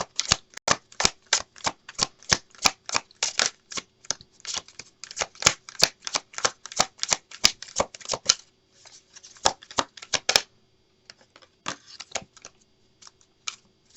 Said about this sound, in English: we're going to shuffle one more time